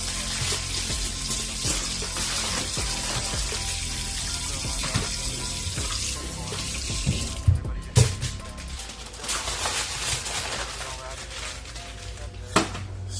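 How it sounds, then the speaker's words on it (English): Water runs from a tap to rinse asparagus, a steady close hiss with occasional clatters and knocks mixed in. "I got the water running for the asparagus"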